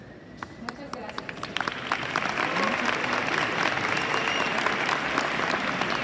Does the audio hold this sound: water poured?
no